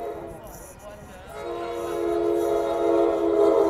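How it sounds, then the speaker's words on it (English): An Amtrak Capitol Corridor passenger train to Sacramento, cab car leading, approaches on 98th Avenue in Oakland, California with a growing rumble, and a loud sustained horn sounds up close as it speeds past. "here comes the 5:28 Capital Corridor train to Sacramento coming up"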